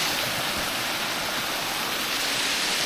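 Steady, loud, continuous rush of falling water close by at Folly Dolly waterfall, a dense unbroken roar with no other sounds.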